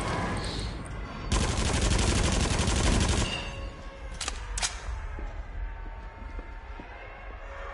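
Gunshots in Until Dawn: Rush of Blood: a loud, sustained stretch of rapid fire lasting about two seconds, followed by two sharp single cracks and a rumbling game backdrop.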